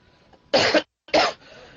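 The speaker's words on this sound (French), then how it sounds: "j'ai une toux qui n'arrête pas" Two harsh, loud coughs close to the microphone, separated by a brief pause, with no talking.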